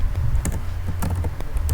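Quick taps on a computer keyboard while entering a command in a Linux terminal, a short run of close, irregular clicks over a low background hum.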